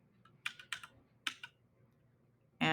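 Numbers typed on a computer keyboard: a few quick clusters of crisp close key clicks with quiet gaps between, ending in a louder sustained burst, no talk.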